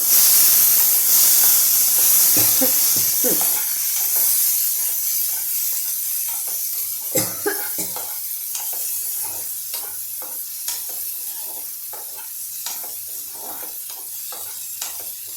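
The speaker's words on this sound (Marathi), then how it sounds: "आता यामध्ये आपण घालणार आहोत टोमॅटो याला आपण हलवून घेऊया" Tomatoes fried in a pan for a Marathwada-style tomato thecha, a steady sizzling hiss with scattered scraping and knocking strokes as they are stirred, close and fairly quiet.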